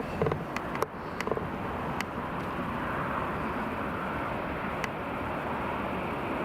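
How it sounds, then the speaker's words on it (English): An EasyJet airliner taxiing onto stand 6 at Newcastle International Airport, a steady mid-distance engine rumble with a few sharp clicks and creaks near the start. "Here we have the EasyJet pulling in onto stand number 6"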